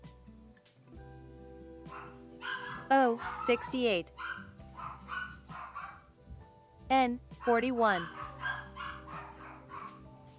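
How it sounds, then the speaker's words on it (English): Puppies bark and yip in short clustered bursts, high-pitched and fairly close, with a second bout a few seconds after the first, while a person calls bingo numbers over them. "Puppies."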